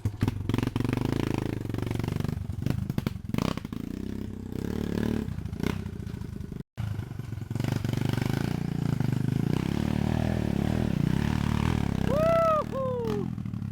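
A dirt bike engine revs and roars continuously at close range, with rattling and scraping throughout and a brief cut near the middle, ending in rising high-pitched whines.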